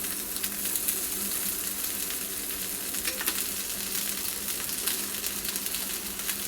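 Bacon frying on a small sandwich press, a steady quiet hiss of sizzling fat with faint crackles and pops throughout, no talking.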